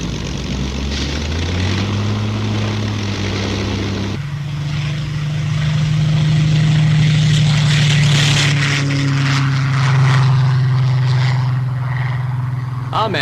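A propeller-driven Royal Air Force training aircraft flies in a steady droning hum that shifts pitch as the engine changes, loud and close and continuous, with no talking over it.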